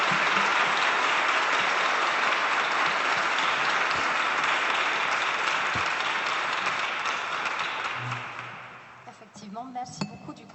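An audience claps after a round-table panel on the circular economy in building, steady full applause that tapers off toward the end, with light glass clinks and a voice resuming.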